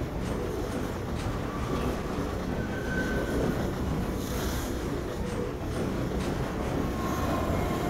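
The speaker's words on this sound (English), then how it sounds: "Yep, there is a train above me." A train rumbles past overhead in the video game Half-Life 2, a loud continuous roar of rail noise with faint wheel squeals and clatter that stays steady throughout.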